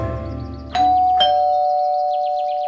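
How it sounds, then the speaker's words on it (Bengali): A doorbell rings as a sound effect in a Bengali detective drama: a loud, close two-tone ding-dong, the second chime ringing out and slowly fading over a couple of seconds, alone with no speech. "দরজায় কলিং বেলটা হঠাৎ বেজে উঠল।"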